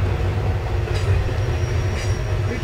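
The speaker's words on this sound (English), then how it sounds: "Retired former Santa Fe locomotive." A retired former Santa Fe locomotive gives a loud, steady low rumble close by, with faint high wheel squeals rising briefly twice over the continuous drone.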